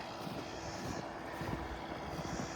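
A snowplow truck approaches along a snowy road during a winter storm, giving a steady, broad rumbling roar that stays fairly even throughout, with no voices.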